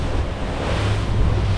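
Rough sea waves and strong wind roar on a boat crossing the Gulf Stream into a headwind, a loud, steady wash of surf and wind buffeting the microphone with a low rumble throughout.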